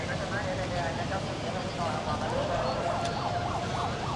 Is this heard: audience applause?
no